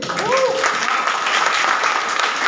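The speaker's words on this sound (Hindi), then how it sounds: "कितने लोग हैप्पी है तो दिल से ताली बजाएंगे" Seated audience at a motivational income seminar claps heartily, a brief dense burst of many hands lasting a couple of seconds, with a short whistle-like tone at the start.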